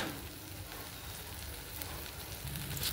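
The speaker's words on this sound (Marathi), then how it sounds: "हा मसाला आता असा आपल्याला परतून घ्यायचा आहे" Masala sizzles steadily as it sautés in ghee and butter for methi mutter malai, a close, continuous frying hiss with no talking.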